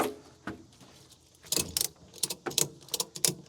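A ratchet tie-down strap is cranked to secure a dirt bike, giving a series of sharp clicking ratchet bursts, near and fairly quiet, irregular after a pause.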